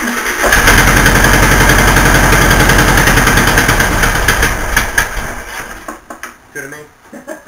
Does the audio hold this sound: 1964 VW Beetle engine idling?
yes